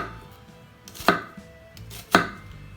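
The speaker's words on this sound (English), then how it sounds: "Tip cuts nicely through the onion." A 67-layer Damascus chef knife chopping through an onion on a board, two crisp, loud cuts about a second apart with quiet between them.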